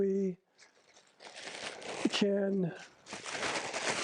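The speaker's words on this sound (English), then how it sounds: "this is just a kitchen plastic bag" A kitchen plastic bag crinkles and rustles in bursts, close up, with a voice speaking briefly between the bursts.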